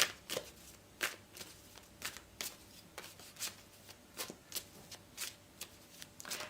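Tarot cards shuffled by hand in a rapid run of crisp riffling bursts, about two per second, close and fairly quiet, with no talking.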